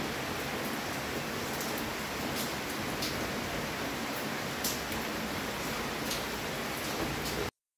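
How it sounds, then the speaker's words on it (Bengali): Steady rain falling on a cold, windy morning, a dense even wash of patter with no voices, continuing throughout until it cuts off near the end. "বৃষ্টি দিচ্ছে কি ঠান্ডা হাওয়া।"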